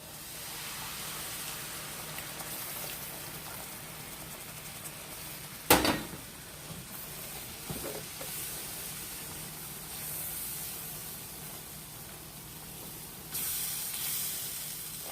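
A steady hiss of sizzling as hot water hits a frying pan with chicken fried steak fills the stretch, broken by a sharp clatter midway, with the sizzle swelling louder near the end.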